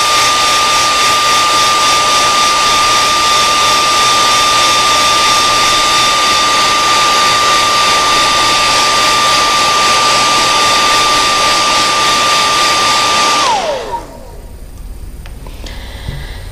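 A heat gun blows steadily and loudly on freshly sprayed paint for a quick heat set, a constant roaring whoosh with a steady whine that cuts off abruptly near the end, leaving a quiet hum.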